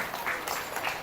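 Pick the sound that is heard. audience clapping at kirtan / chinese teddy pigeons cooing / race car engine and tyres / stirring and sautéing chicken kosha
audience clapping at kirtan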